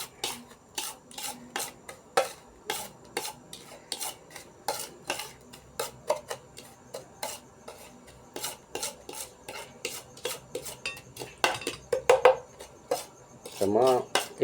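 Korean instant noodles being stirred in a pot with their flavorings, a utensil scraping and clinking against the metal in quick irregular strokes, close and distinct, with a few louder knocks near the end.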